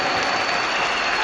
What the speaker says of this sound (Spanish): Un aplauso para esta hermana.